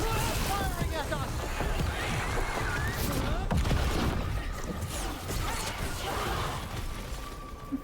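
Enemy gunfire aimed at the player in the video game Dragon Age: The Veilguard, with dense bursts of shots, crashes and whooshes packed close together across the whole stretch, mixed with voices talking.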